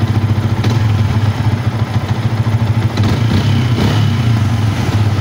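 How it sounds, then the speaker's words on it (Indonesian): A Yamaha Vixion motorcycle engine idles close by, a steady rapid thumping pulse with mechanical clatter, loud and even for several seconds. "Kita hidupkan motornya."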